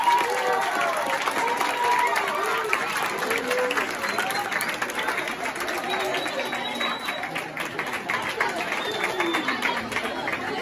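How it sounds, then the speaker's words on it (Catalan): Audience applause at a school Women's Day award ceremony, a steady crowd clapping sustained throughout at fairly close range, with a murmur of chatter and a raised voice or two mixed in. "Un aplaudiment, per favor."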